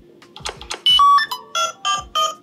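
A TECNO POVA 7 5G phone plays a ringtone of short electronic bleeps and chimes in a quick rhythmic pattern, clear and close with no speech.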